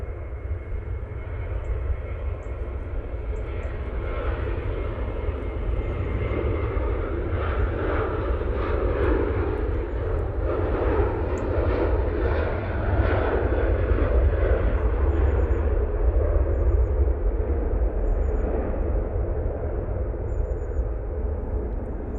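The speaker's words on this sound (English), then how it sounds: "Jet2 Holidays, 737," A Jet2 Holidays Boeing 737 jet at Manchester Airport, a loud, steady engine roar with a deep low rumble that holds throughout.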